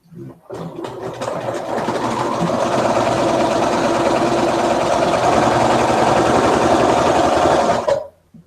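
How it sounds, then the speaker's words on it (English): A sewing machine runs steadily while joining three long quilt strips together, a continuous close mechanical whir and rattle lasting about seven seconds before stopping abruptly. "I'm going to keep sewing all 3 together."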